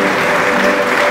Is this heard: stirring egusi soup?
no